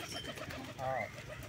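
Pet pigeons coo while eating, with one clear throaty coo rising briefly over a low background, close by.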